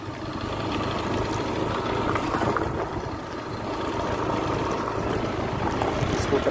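A scooter's small engine runs steadily near a jungle park entrance, a constant close hum with a faint background murmur.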